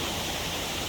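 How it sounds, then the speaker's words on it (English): The waterfall at Silver Falls, Oregon, rushes in a steady, dense broadband roar with no pauses and no voices. "There's the waterfall."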